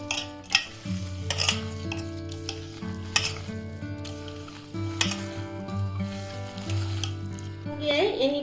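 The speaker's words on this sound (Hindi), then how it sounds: "देकर हम मिक्स कर रहे हैं इसको अच्छी तरह से, इस तरह से थोड़ा मिक्स करना है।" Chana dal pakora batter with coriander leaves is stirred in a bowl, giving soft wet scrapes and occasional clicks under steady background music.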